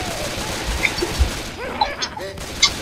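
Scattered gunfire in the Dark Carnival campaign of a zombie shooter game, several sharp pops and bangs amid game noise, with players talking over the shots.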